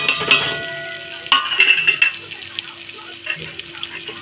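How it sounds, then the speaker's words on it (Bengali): Onions going into a hot pan with fried cashews and raisins for fried rice, giving a brief loud sizzle and scraping stir strokes, then a quieter crackle, with a person talking in the background. "এরপরে আমি এর মধ্যে পেঁয়াজগুলো অ্যাড করে দেবো।"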